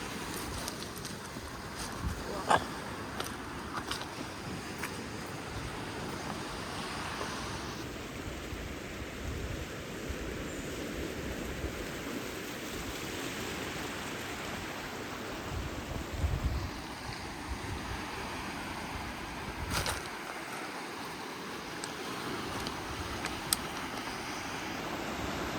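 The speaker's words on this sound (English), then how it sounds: "the mouth of the Lyre River is like right here" Waves wash steadily at the mouth of the Lyre River in a continuous, broad hiss of surf and wind rush, heard from nearby, with no distinct breaks and only faint variation in loudness.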